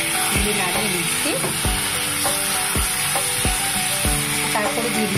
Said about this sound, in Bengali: তো সেই কাজুর পেস্টটা আমি জল দিয়ে দিলাম এর মধ্যে। প্রথমে নাড়িয়ে নিচ্ছি,